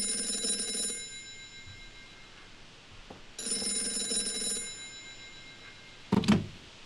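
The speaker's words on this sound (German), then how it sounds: "Woher wusstest du, dass das Telefon klingeln wird?" An old-style telephone bell rings in the Gray Matter adventure game, two sustained bursts of bright metallic ringing separated by a quiet pause, followed by a short clunk as the receiver is picked up.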